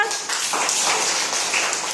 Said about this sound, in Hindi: ताली मार दियो